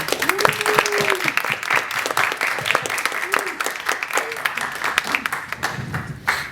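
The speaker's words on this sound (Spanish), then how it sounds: "un fuerte aplauso para todos los que llegaron" Applause from attendees gathered at an MFA students' welcome reading, brisk clapping throughout with voices calling and talking over it before it tapers at the end.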